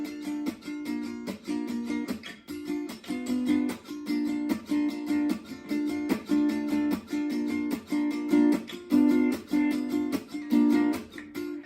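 Gypsy jazz rhythm guitar strums a tune's intro, steady rhythmic chord chops in a repeating pattern, moderately quiet and alone with no voices.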